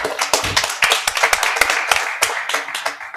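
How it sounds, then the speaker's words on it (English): A round of applause breaks out at a school board meeting honoring a high school girls basketball team for reaching the regional final, with many hands clapping in a brisk, uneven patter close by. "Let's give them a round of applause."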